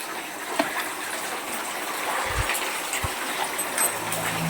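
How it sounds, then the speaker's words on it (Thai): Steady rushing water flows continuously inside a cave, a broad hiss with a couple of low thumps, echoing slightly. "ผมได้ยินเสียงน้ำ"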